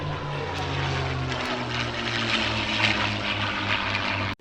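A P-51 Mustang propeller fighter with a Merlin engine passes at the Headcorn International Airshow, a steady, loud droning roar with a rising and falling pitch that stays up throughout before cutting off abruptly at the end.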